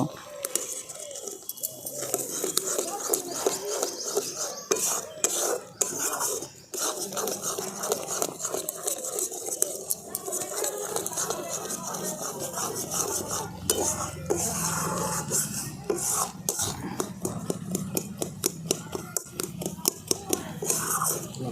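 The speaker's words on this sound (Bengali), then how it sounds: "সেই গুঁড়োটা আমি আস্তে আস্তে অল্প অল্প করে দিয়ে এর সাথে মিশিয়ে নেব" Gobindobhog rice flour is gradually stirred into a mixture in a kadai for sandesh, with continuous scraping and clinking of a spoon against the pan, busy and close, while a person talks over it.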